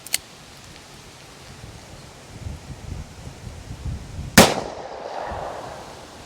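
A Taurus 608 revolver fires a .38 Special +P Silvertip round outdoors, one sharp, loud crack late in the clip after a faint snap at the start, with wind rustle in the background.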